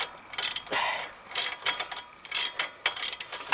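Ratchet wrench clicking in quick repeated bursts while tightening bolts during a brake pad and rotor replacement on a 2012 Ford Focus SE, close and alone with short pauses between strokes.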